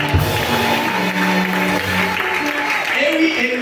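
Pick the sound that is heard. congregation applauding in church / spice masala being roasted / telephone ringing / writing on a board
congregation applauding in church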